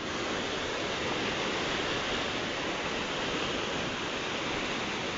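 The Aghanashini river, swollen by monsoon rain, rushes past a bridge in a dense, constant roar that stays steady and loud throughout without any voices.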